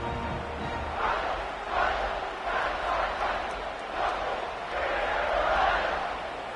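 A home crowd at a college football game between Marshall and Coastal Carolina roars and cheers in swelling waves, filling the stadium as a broadcast announcer talks over it.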